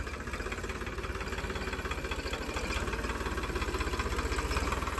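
A tractor engine idling close by, a steady low chugging pulse with a rhythmic knock that grows slightly louder toward the end, alone without talk.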